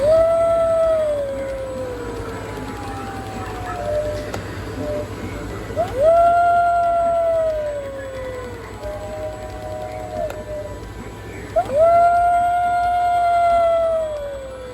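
An animatronic Halloween skeleton dog gives a drawn-out, wavering electronic howl that rises and fades three times at a steady interval, loud and close, with a low steady hum underneath.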